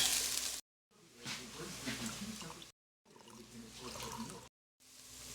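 Onions and celery sizzle softly in a frying pan for spaghetti bolognese, a steady close crackle broken by short silent cuts.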